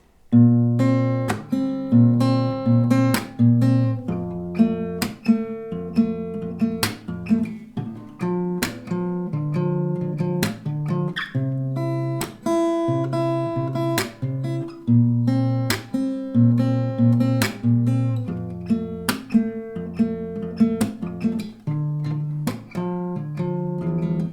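Acoustic guitar chords strummed at an unhurried, steady pace, a bright rhythmic pattern cycling through changing chords with no voice.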